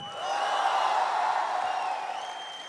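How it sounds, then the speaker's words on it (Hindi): A college crowd at the BITS Pilani Goa fest breaks into applause with some whoops, a full, sustained clapping swell that builds quickly and then slowly tapers. "एक बार जोरदार तालियां बिट्स पिलानी गोवा के लिए"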